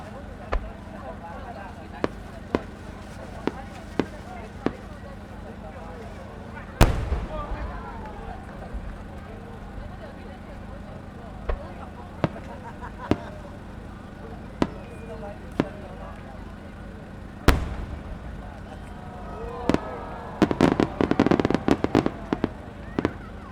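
Fireworks display at the Omagari fireworks festival by Taiyodo Tamura Enkaten, with sharp distant bursts and a crackling cluster toward the end over steady crowd murmur.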